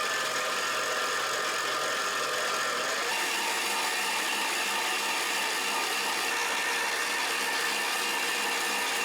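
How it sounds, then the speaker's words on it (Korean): Stand mixer running at top speed, whirring steadily as it kneads a hot-water roux bread dough, a continuous motor drone with a slight shift in tone after the first few seconds, no voices. "물이 다 들어간 뒤에는 바로 최고속으로 올려서 1분간 믹싱을 해주세요"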